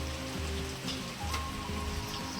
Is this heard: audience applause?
no